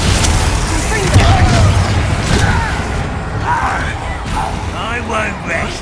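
Confringo fire blast spell in Hogwarts Legacy combat, a loud booming burst with crackling, rumbling debris amid chaotic battle effects, with game voices shouting over it.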